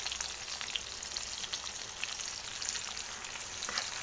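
Finely chopped onions and curry leaves fry on a high flame for poha, giving a dense, even crackling sizzle that runs steadily throughout with tiny popping bursts.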